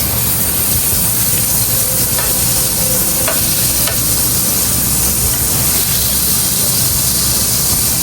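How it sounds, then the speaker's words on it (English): Butter sizzles and fries in a pot while sweet and spicy sauce is prepared for salmon, a steady loud hiss with faint stirring clinks and no voices. "we're gonna add a little butter to the pot, just a little bit"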